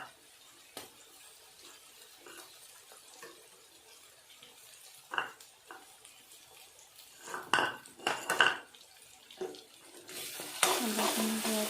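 Ginger hits a hot pan and sizzles while being stirred, with scattered clinks and scrapes of a utensil against the pan and a louder frying hiss building toward the end.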